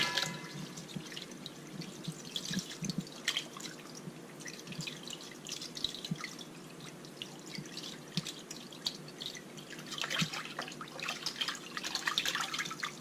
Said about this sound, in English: And now we're going to give it one last rinse.